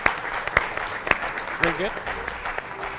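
An audience at an event claps, moderate and scattered, underneath someone talking, with a few sharper clap bursts punctuating his speech.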